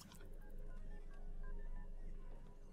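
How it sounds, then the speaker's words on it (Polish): Quick electronic keypad beeps of a phone being tapped to send a text message in The Sims 3, a rapid run of bright tones followed by scattered softer button blips, quiet and close. "SMS-owanie."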